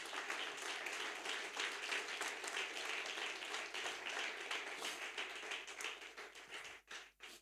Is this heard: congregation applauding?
yes